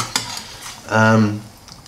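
A pan of scrambled eggs made from three eggs is stirred, giving a short scraping and light sizzling burst with a faint clink of utensils.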